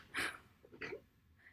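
Two short, sharp nasal snorts burst out in quick succession, close and fairly quiet.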